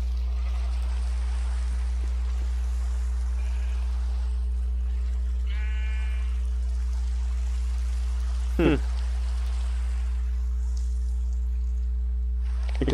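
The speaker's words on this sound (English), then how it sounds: "It could stop raining." Steady rain hisses through a modded Minecraft world, a soft even wash over a low hum, with a brief sheep bleat and a couple of sharp clicks partway through; no one speaks.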